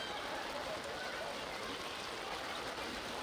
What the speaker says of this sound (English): The way rain is accumulating on the pitch now.